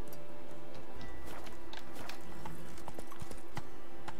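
Hooves of the horse Roach clip-clop steadily in a quick galloping rhythm through The Witcher 3 game world, close and clear over a soft ambient backdrop.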